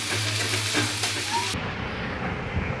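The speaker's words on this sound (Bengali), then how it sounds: "আমি এখন পেঁয়াজ আর রসুনটি ভেজে নেব। এই দেখেন আমি এরকম করে ভেজে নিচ্ছি" Onion and garlic frying in a pan: a steady, fairly close sizzle with a faint low hum underneath. The texture shifts partway through.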